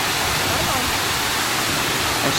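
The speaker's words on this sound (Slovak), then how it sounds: "Vidíš, aký je? Ten vodopádnik." A jungle waterfall in Bali roars as a loud, dense, continuous wash of falling water, close and steady throughout; a voice may be faintly present beneath it.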